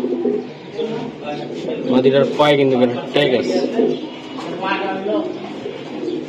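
Pigeons at a farm selling Giribaz and racing breeds coo softly beneath a man's steady, close conversation, which dominates throughout.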